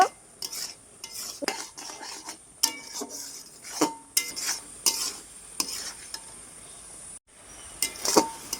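A spoon stirs and scrapes through raw mango pickle coated in sugar syrup in a pan on the heat while a small amount of spice is mixed in. Close, irregular scrapes and clinks repeat over a faint sizzle, with no talking.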